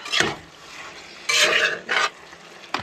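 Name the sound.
stirring cumin, salt and chili powder into taco skillet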